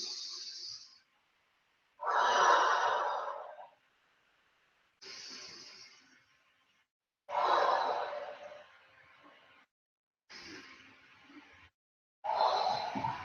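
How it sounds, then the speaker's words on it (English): Deep, audible breaths come during a stretch in a dance-style toning workout. Long inhales alternate with slower exhales in about three full cycles, each separated by short silences, close to the microphone. "Leaning in, 3 deep breaths."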